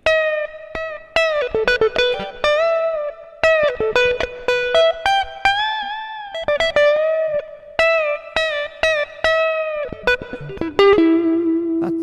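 Electric guitar picked note by note with reverb on, playing a melodic line with sustained, ringing notes and occasional slides, loud and close, no talking.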